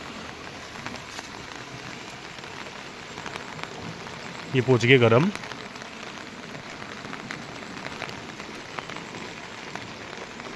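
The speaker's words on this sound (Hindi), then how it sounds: "नाले में पानी की गति बता रही है कि बारिश कितनी है।" Rain falls over farmland while water runs through a roadside drain, making a steady, even hiss throughout, with someone briefly speaking midway.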